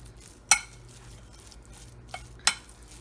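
Kebab mixture with ginger garlic paste being worked in a metal bowl, with two sharp utensil clinks against the dish and a softer knock between them over a quiet background.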